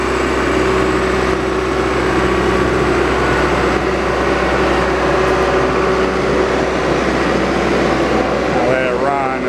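A John Deere 310G backhoe engine runs steadily at high idle, a constant loud drone with a low hum throughout, nearby and uninterrupted.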